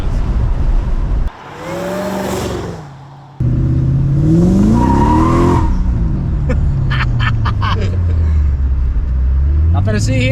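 A 600 horsepower Mercedes on Falcon tires accelerates hard on an open road, its engine rising and falling in pitch through the gears with loud, close roaring and a whining squeal, a person talking over it.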